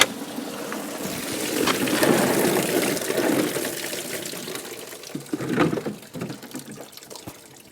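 Water drains out of a Ford 302 V8 engine in a Mk2 Ford Granada, a steady splashing gush that swells, then breaks into uneven trickles and drips toward the end, heard alone at close range.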